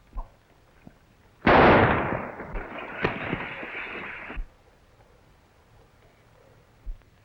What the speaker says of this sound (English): Shoot the gun out of his hand, Marshal.